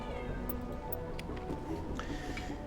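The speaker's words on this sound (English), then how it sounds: "My cat's making himself known again." A house cat meows a few times in the background, faint and intermittent against a steady low hum, with no one talking.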